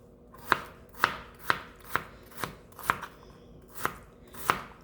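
Knife chopping food on a cutting board in seven steady, evenly spaced thuds, close and fairly quiet, with no talking.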